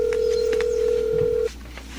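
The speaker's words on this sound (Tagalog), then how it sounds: "Andrew, Susubukan kong kontakin ulit ang uncle ko, Myra" A mobile phone call being placed, with a steady electronic tone held for about a second and a half before cutting off, followed by quieter line noise.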